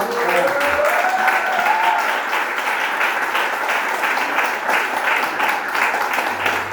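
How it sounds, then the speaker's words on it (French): Audience applause fills a hall at an art and testimony gathering in Fréjus, a dense, steady wash of many hands clapping at the same level throughout, with faint murmuring and a brief voice near the start. "Alors je vous demande un tonnerre d'applaudissements pour quelqu'un qui vient d'un petit peu loin."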